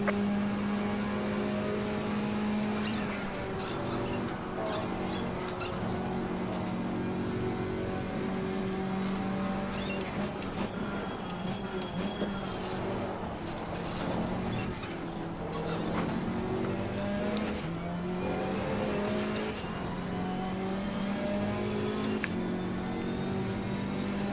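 The race car engine of a KTM in the VR racing game Assetto Corsa Competizione, at Suzuka, whines steadily and close, rising and falling through gear changes with other cars faintly nearby.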